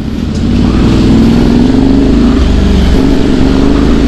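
A 450cc motorcycle with quick shift and auto blip roars loudly and close, its engine note held and rising through a steady rev with a deep rumbling undertone, no talking.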